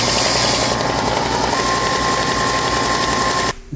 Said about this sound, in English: My buddy Gary showed me a little trick how to put a point on these.